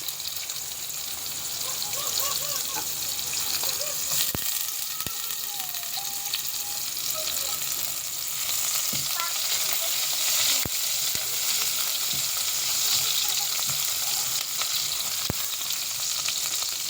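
Onions sizzle and crackle steadily in a hot pan, with sharp clicks as a utensil stirs and scrapes now and then, close and fairly loud throughout, with no talking.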